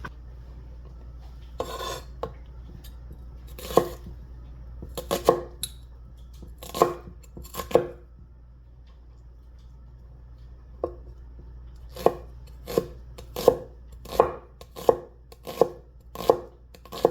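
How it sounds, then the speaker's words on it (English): A knife mincing a shallot on a cutting board makes bursts of sharp, rapid chops close to the mic, with pauses between runs of several quick strokes and no talking. "we want to mince this shallot"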